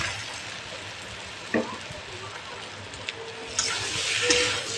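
Fried egg pieces are stirred into chili chicken in a pan, giving a soft, continuous sizzle with a few scraping clinks of the spoon and a brief swell of hissing near the end.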